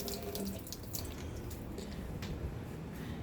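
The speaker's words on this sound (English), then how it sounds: "Yeah, you got to pour out the water." Water is poured out of a cooking pot while making Korean chicken stew, a faint, steady splashing trickle with no one talking.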